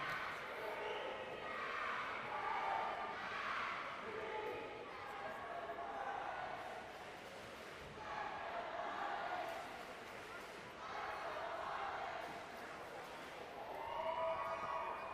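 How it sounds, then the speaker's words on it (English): Crowd cheering fills an indoor natatorium at the Oklahoma state swimming championships, a broad sustained roar that swells in several waves and stays loud throughout, with no clear talk over it. "Oh, we got another cheer going on."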